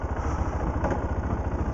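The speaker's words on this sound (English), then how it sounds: "G650GS. So, obviously a thumper." A 2009 BMW G650GS single-cylinder motorcycle with lowered suspension idles nearby, its steady low thumping pulse loud and even throughout with no talk.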